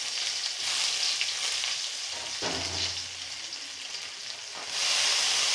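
Spice paste and garlic frying lightly in a pan give a steady, close hiss with soft sizzling throughout, with a brief scraping stir partway through.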